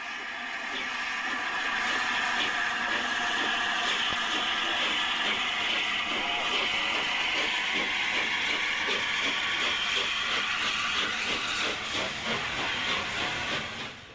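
An A2 steam locomotive pulling out of Aberdeen, releasing a loud, continuous hiss of steam that holds steady from start to finish and fades slightly at the very end.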